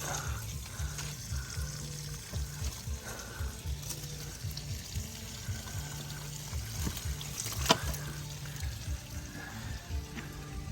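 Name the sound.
koi pond filter pump running water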